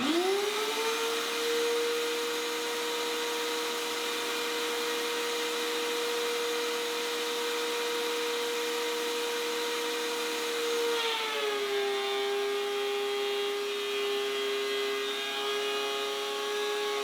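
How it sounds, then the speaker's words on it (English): A benchtop planer runs wood drawer boards through, producing a loud, steady motor whine with a strong tonal hum that drops slightly in pitch partway through as the cut loads the machine, with no voices. "I could flip them over and run them through the benchtop planer to do the opposite side"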